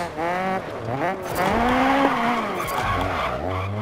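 Tires squeal as a car drifts in the DiRT 4 racing game, a continuous, close, bending screech layered over a revving engine, its pitch rising and dipping through the slide.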